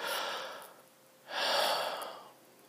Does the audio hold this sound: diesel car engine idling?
no